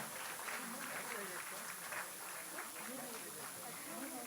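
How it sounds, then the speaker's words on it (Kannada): An audience at an award ceremony claps for prize winners, a steady patter of applause running under a voice. "ಈ ಮೂವರಿಗೂ ಚಪ್ಪಾಳೆಯ ಪ್ರೋತ್ಸಾಹವನ್ನು ಸಲ್ಲಿಸೋಣ."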